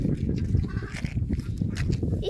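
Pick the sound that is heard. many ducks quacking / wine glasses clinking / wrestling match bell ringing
many ducks quacking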